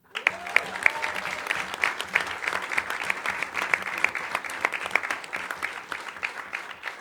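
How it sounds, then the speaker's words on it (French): Applause for newly installed municipal councillors at a town council meeting in a hall, a steady moderate clapping from a seated audience with crisp individual claps, sustained through the whole stretch. "je souhaite qu'on les applaudisse individuellement"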